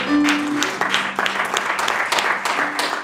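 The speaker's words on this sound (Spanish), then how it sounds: "Un aplauso al Señor, hermanos." Congregation applauding during a New Year's Eve church service, a short burst of mixed clapping with some voices over it, fairly steady and close, with a sustained tone underneath.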